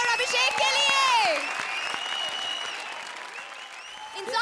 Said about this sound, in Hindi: एक बार फिर दोस्तों जोरदार तालियां भारती और अभिषेक के लिए